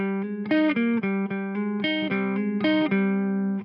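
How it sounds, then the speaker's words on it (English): Clean electric guitar picking, a bright repeating pattern of plucked notes played steadily with no vocals. "you hear this clean picking part that sounds like this"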